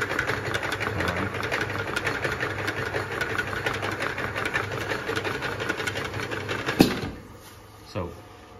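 An LT-150C round bottle clamp labeling machine running steadily, giving a dense, rapid mechanical whirring and ticking with a couple of sharper clunks near the end as the clamp and conveyor move.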